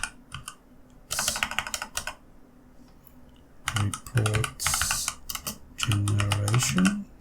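Keyboard typing in bursts of rapid clicks while entering a search for a Moodle plugin, with short pauses between runs and occasional faint low sounds underneath.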